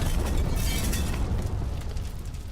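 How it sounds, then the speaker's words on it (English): An explosion sound effect plays from a phone button: a continuous, loud, roaring blast with crackling, crinkling texture that slowly fades over a couple of seconds, with no voices. "That's an explosion."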